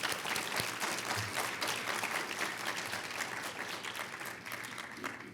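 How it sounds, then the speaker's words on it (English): An audience at a startup demo day applauds the mentors, with faint, steady, continuous clapping from a crowd in a large room. "let's do a round of applause for our mentors"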